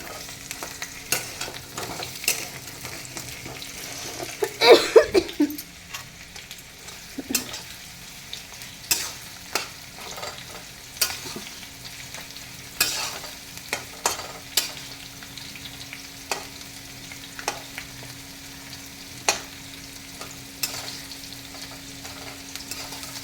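Potatoes frying in a pan and being stirred, with a steady sizzle broken by repeated scraping strokes of the spoon at a regular pace, close and moderately loud, no talking.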